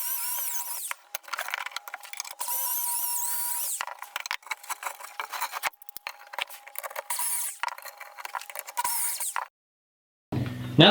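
A power drill boring pocket holes in pallet wood, high whining bursts that start and stop repeatedly with short gaps, close and fairly loud, ending in a brief pause and a knock.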